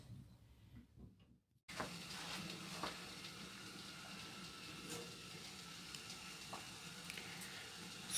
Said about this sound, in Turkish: Su tıkır tıkır kaynıyor.